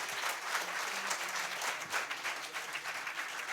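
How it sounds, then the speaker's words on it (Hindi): Steady, fairly distant audience applause at a mushaira poetry gathering, a continuous even wash of clapping with no talk over it. "एक बार तालियां बजा के अपने लिए एक माहौल बनाते हैं।"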